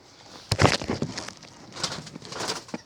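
Strasser pigeons in an aviary give soft, low cooing calls in short bursts with some faint rustling and patter, heard close by and without talking.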